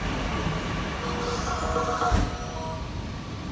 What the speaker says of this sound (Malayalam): പുതിയ കാലഘട്ടത്തിൻ്റെ ഗതാഗത മാർഗമായ മെട്രോ ട്രെയിനിലും നമ്മുടെ കുട്ടികൾ കയറി